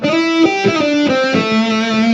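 Distorted electric guitar lick from a beginner lesson, a short phrase of sustained notes with slides between pitches, loud and close, played alone without talking.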